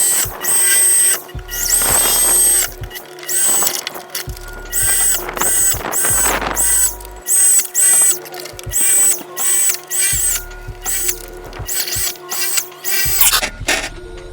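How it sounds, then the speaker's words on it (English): Drill boring out factory spot welds on an Integra chassis, loud whining bursts that start and stop repeatedly, some with a high squeal, separated by short pauses with no talking. "I'm going to start drilling these out"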